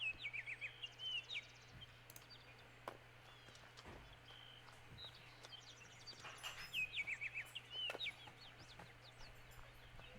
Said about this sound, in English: And the bird sounds so pretty.